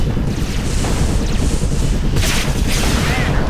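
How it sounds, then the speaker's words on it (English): Space battle weapons fire in the Sword of the Stars 2 video game: a dense, continuous roar of loud rumbling blasts and hissing bursts, with no pauses. "Taking enemy fire. Whoa. Fire."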